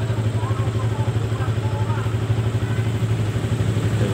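A Yamaha Vixion motorcycle with a charging fault idles steadily up close, a low even engine thrum with light mechanical clatter running unbroken.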